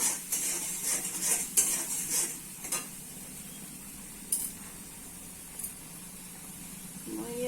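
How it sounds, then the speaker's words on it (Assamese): A spoon scrapes and clinks against a pan as cumin powder is stirred in for a restaurant-style cauliflower yogurt curry, with a run of close, quick metallic strokes followed by a few sparse scrapes over a faint sizzle. "এইখিনি আকৌ অলপ মই লৰাই ল'ম"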